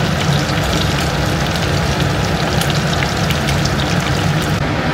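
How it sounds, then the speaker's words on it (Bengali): Pabda fish frying in hot oil in a pan after being flipped, with the flame turned up: a steady, dense crackling sizzle that runs loud and close throughout. "আর এক পিঠ উল্টে দিলাম আর একটু ফ্লেমটা বাড়িয়ে দিলাম, তাহলে তাড়াতাড়ি ভাজা হয়ে যাবে"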